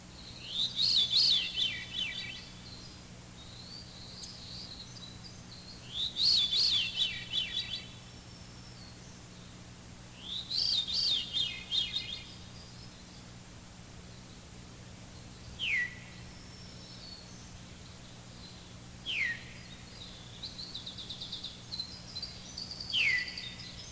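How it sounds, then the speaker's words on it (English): A Veery, a thrush, sings its spiralling descending phrases and gives short downward call notes, several separate bursts spaced apart over a steady low hum, fairly clear and mid-distance. "Here again is the mysterious song in the call notes of the Veery."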